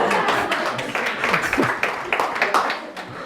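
A church congregation claps together, a dense, fairly loud burst of many hands with irregular sharp slaps that thin out over a few seconds.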